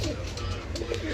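Pigeons in a breeder's loft give soft, low, throaty coos in quick succession over a constant background hum.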